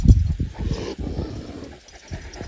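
A sheepdog makes low, close sounds, brief whimpers and panting bursts, with some movement noise and no clear barking.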